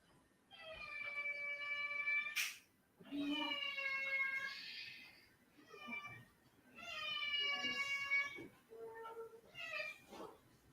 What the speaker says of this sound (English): She's meowing like she wants attention.